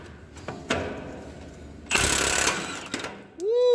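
Bursts from a 1/2 inch impact wrench working loose exhaust bolts on a Kenworth truck, a couple of short hammering rattles and one longer loud burst, with quieter clanks and a rising squeal near the end.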